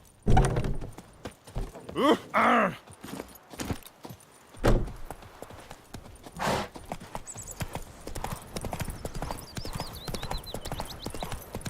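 Horse hooves clip-clop in The Witcher 3: Wild Hunt, irregular thuds at first then a steady trotting rhythm, close and fairly loud, with a brief voice and a whinny-like tone early on.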